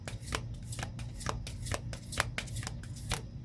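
Oracle cards being shuffled by hand, with a rapid run of crisp riffling snaps and flicks in an irregular rhythm, close and fairly quiet with no talk.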